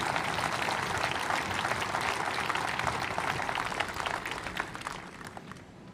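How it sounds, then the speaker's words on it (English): Crowd at an outdoor SpaceX speech at Boca Chica applauding, sustained dense clapping that gradually thins and fades toward the end. "So I think that really deserves a round of applause."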